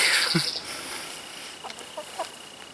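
Chickens in a backyard garden flock cluck a few times nearby, with short scattered calls against a quiet outdoor background.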